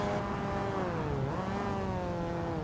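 A Mazda MX-5 Cup race car in Assetto Corsa revs high and steady with a smooth, dipping engine whine, continuous and close with no talk.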